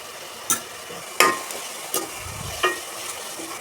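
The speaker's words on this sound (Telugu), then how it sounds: "ఒక 1 మినిట్ దాకా మనం వేపుకోవాలి." Grated carrot halwa frying in ghee, a soft continuous sizzle broken by several sharp scraping stirs of a spoon against the pan at irregular intervals.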